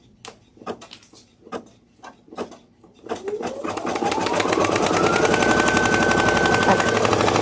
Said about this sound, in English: We're going to stitch our placement here.